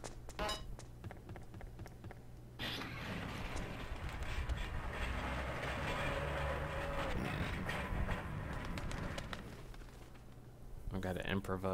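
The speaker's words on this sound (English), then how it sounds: "Alright, so the next train arrives" Train in the video game Chulip rolling in with a steady rumble and rail clatter that swells in the middle of the stretch, framed by quieter passages and a person talking.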